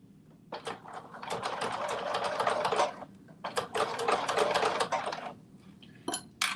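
A sewing machine stitches fabric down on a garment in two long, rapid runs with a pause between them and a short final burst, close and fairly loud.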